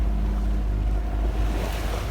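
A sailboat motor-sailing out of harbour toward open sea in under 10 knots of wind, with a steady low engine drone beneath rushing water, waves and wind buffeting the microphone, continuous and close.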